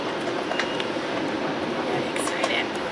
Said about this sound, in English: just got on the train